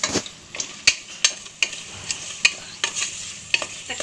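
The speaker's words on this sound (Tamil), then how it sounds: "தக்காளி நல்லா வதங்கட்டும்" Tomatoes sautéing in a pan for vegetable biryani, a soft sizzle under repeated sharp scrapes and taps of a spoon stirring against the pan in an uneven rhythm, close up.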